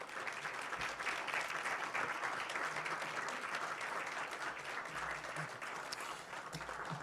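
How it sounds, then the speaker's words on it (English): Steady round of applause for honorees at a Board of Education meeting, a fairly faint, even wash of clapping from a room of people that carries on without a break. "If we can just give them another round of applause."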